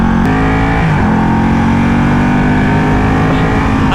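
A Ducati Panigale 1199S with a quick shifter roars loud and close while being ridden, its engine note holding a steady high drone with a brief pitch drop near the start, the rush of wind underneath.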